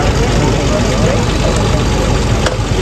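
A vehicle engine runs steadily and loudly close by as the vehicle pulls away at a cyclothon welcome in Adirampattinam, a constant low rumble through the whole short stretch.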